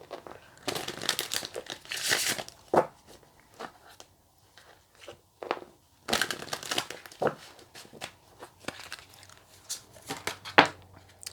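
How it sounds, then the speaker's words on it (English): A deck of tarot cards is shuffled by hand, with bursts of papery riffling and crinkling between quiet gaps, close and intimate. "Just give the cards another shuffle."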